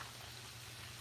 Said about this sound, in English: And again, you hear a light sizzle, all right?